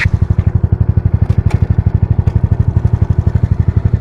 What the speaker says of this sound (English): I'm thinking if I increase the RPM a little bit,